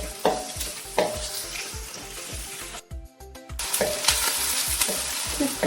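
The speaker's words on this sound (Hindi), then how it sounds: "अब इसके अंदर मैं प्याज शामिल कर देती हूँ। दो मिनट इसे फ्राई कर लेंगे।" Onions frying in hot oil for an aloo shimla mirch chicken dish, a close, steady crackling sizzle broken by repeated spoon scrapes and stirring knocks against the pan, with one brief quiet pause.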